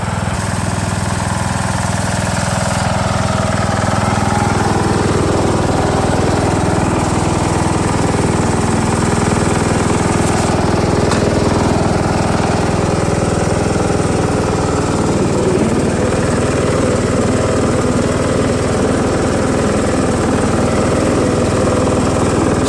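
A John Deere L100 lawn tractor with a Briggs & Stratton engine runs loud and close for over twenty seconds, a constant rough drone that shifts in tone as it rides along, with no voices.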